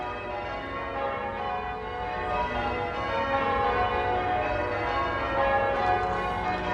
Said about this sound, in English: I love that the bell tower still works.